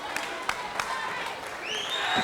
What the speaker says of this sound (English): the Port Huron Northern fans gives their team a big, well-deserved round of applause